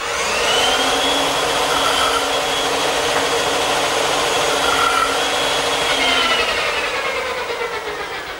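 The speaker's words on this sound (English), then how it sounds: "Now the bandsaw is a good choice to remove the rest of the material to form the tenon." In a woodworking shop, a bandsaw cuts away waste wood to form a tenon, with a steady, even whirring roar throughout and no talking.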